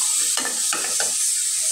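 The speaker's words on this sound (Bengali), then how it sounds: "চুলের আঁচ বাড়িয়ে দিয়ে নেড়ে চেড়ে কিছুটা রান্না করব" Brain and potatoes stir-fried in a pan over raised heat, a steady sizzle with a few quick scraping strokes of the spatula near the start, close up, with no talking.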